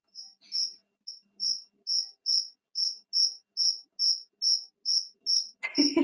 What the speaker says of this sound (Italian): Sta rispondendo anche il grillo.